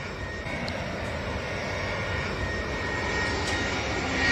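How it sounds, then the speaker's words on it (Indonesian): A fixed-wing airplane drones overhead in a steady, broad engine roar that swells slightly louder toward the end, with no other sounds over it. "Wah, aya kapal ya."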